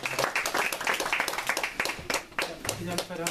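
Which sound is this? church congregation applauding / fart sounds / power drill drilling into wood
church congregation applauding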